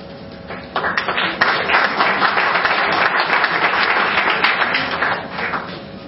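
An audience at a cartoon festival applauds in a full, even wash of clapping that swells after a quieter start and holds steady before easing slightly at the end.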